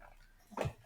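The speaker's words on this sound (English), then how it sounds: "And that's my dog. Sorry, she's asking for food." A dog briefly whines for food, one short faint whimper at a distance in a quiet indoor room.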